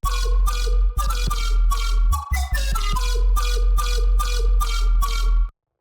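A bright synth preset with a delay effect plays a repeating pattern of punchy notes with echoing repeats trailing behind each one, stopping abruptly near the end.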